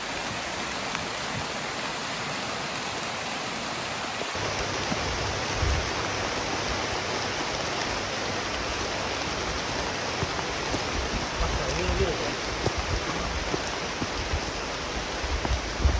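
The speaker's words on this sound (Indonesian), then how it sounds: "Hujan guys, masuk hutan tapi" Rain falls steadily in a forest on a hiking trail to Bukit Semar via Dilem in East Java. It makes an even, dense hiss of drops on leaves and ground, with no talking.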